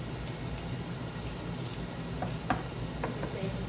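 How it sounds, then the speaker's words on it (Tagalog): Garlic sautéing in a pan for a Filipino home meal, a steady close sizzle of frying with faint scraping stirs and a few light clicks from the utensil. "Igisa natin ng konti yung bawang."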